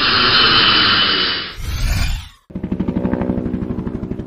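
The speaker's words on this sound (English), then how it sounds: "Airplane." Airplane jet engine giving a loud, steady roar that cuts off abruptly, followed by a rushing whoosh and then a pulsing, throbbing engine drone.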